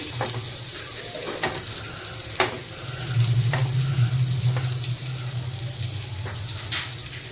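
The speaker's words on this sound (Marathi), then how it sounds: "आता आपण मासा पलटून घेणार आहोत पुन्हा तेल मी एकसारखं करून घेते" River halwa fish frying in oil gives off a steady sizzle and bubbling, with a few sharp clicks from a utensil along the way and a louder crackling burst near the middle.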